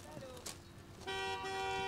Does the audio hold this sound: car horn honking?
yes